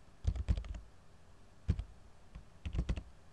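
Keystrokes on a computer keyboard entering a Linux terminal mv command, heard as three quick bursts of close, crisp clicks separated by short pauses, with no talking.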